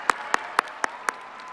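Slow, evenly spaced claps at a 2023 Chapin High School graduation ceremony, about five distinct hand claps in a row, fairly faint with a quiet hall behind them.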